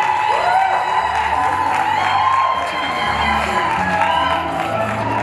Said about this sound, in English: Please, Papa Max, can we clap?